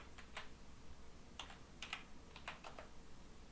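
Typing on a computer keyboard: a few quiet, close key clicks in small irregular bursts over a faint steady background hiss.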